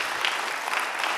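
Congregation applause at a Friday Holy Spirit service at Hansung Church, a steady wash of many hands clapping together, fairly close and continuous, with no voices over it.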